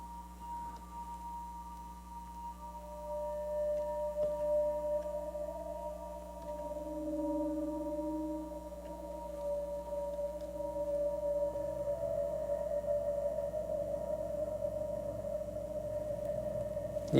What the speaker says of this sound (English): Let's give it some lows and see if you can get some real cool whale sounds out of this.